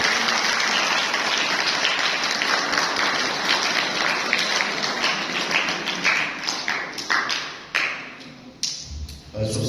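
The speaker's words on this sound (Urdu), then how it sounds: "سب سے پہلے تو میں آپ سب کو خوش آمدید کہتا ہوں بھرپور تالیوں میں" Seminar audience in a church hall breaks into dense, loud applause that holds steady for several seconds, then thins into scattered individual claps before fading.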